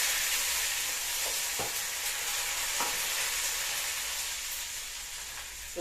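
Vadagam seasoning sizzles in hot oil while tempering for kuzhambu, a steady close frying hiss with a few faint crackles and pops and no talking.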